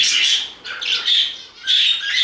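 A blue budgerigar in a free-flight aviary room calls close by in a few shrill, scratchy chirps and squawks, three bursts with short gaps between.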